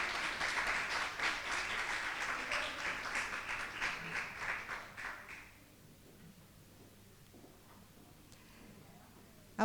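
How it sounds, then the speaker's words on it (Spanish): A crowd at a conference on legal capacity of persons with disabilities applauds warmly for about five seconds, then the clapping fades out into a quiet room. "Súper bien, un aplauso."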